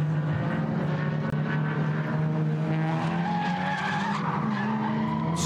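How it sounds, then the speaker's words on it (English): Tyres squeal on a race car during an ADAC Nürburgring endurance race (NLS) at the Mercedes Arena section, a loud continuous skid over steady engine drone lasting several seconds. "Squeal of tyres"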